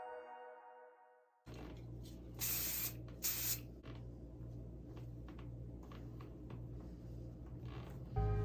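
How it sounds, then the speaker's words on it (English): Two short, sharp hisses of hairspray are applied in light bursts to sections of hair while styling a low ponytail, close to the microphone in an otherwise quiet room. "Spray in smaller sections in light amount"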